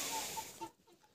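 Chickens in a backyard coop give a few soft, nearby clucks and short calls over a faint hiss, quick and brief before fading quieter.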